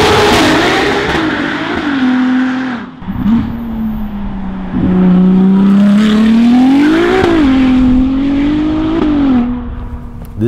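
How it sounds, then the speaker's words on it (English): A Ferrari 296 GTB fitted with a Novitec aftermarket exhaust revs hard and loud with no talking, the engine note climbing and falling through several blips, then settling back to a strong, steady idle between them. "The exhaust on this car absolutely transforms the nature of the 296 GTB."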